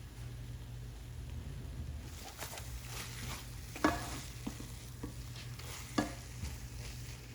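Tomatoes fry in a pan with onions and green chillies for an egg gravy, a soft steady sizzle broken by several scraping stirs and a couple of sharper clanks of the spoon against the pan.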